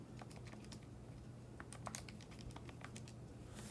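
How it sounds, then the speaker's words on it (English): Numbers tapped into a calculator, a quiet run of light, irregular key clicks over a low steady hum, with no talking. "When I type that into my calculator,"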